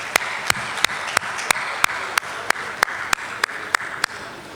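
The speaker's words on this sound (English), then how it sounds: "The big hand this time" Sparse, evenly spaced claps ring out one after another in a quiet room at a Nigerian city launch event, a thin, hesitant round of applause rather than a full ovation, with no voices over it.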